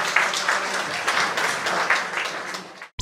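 Guests applaud a wedding couple and their wedding cake at a reception, a full, even burst of many hands clapping close by for about three seconds before cutting off abruptly.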